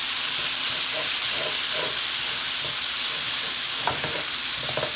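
Beef steak, a little under two pounds, sizzles loudly and steadily in a hot pan for a bean-free red chili, with a constant frying hiss and a few brief crackles and utensil scrapes, no talking.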